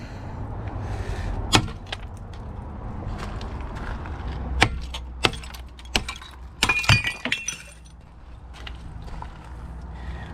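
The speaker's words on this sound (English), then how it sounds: "That it is so hard to smash" A ceramic toilet being smashed apart, with sharp cracking and breaking impacts at irregular intervals over a low rumbling background, some hits loud and close, others fainter.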